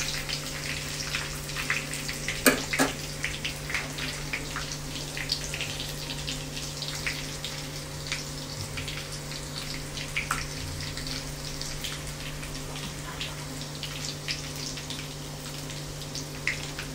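Coriander roasts in hot oil for poha with a continuous close hiss and crackle, steady throughout and free of speech.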